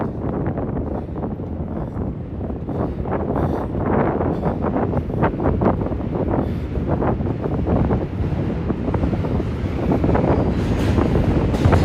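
Steady wind buffets the microphone on the Brooklyn Bridge high above the river in New York City, a continuous low roar with gusty pulses and a faint rumble beneath, no talking.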